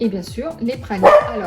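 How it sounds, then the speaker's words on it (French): A French bulldog gives short barks and growls in a kitchen while a brioche with pralines is being made, several quick close yaps mixed in with a person talking. "Le bulldog français, vous l'entendez, elle grogne"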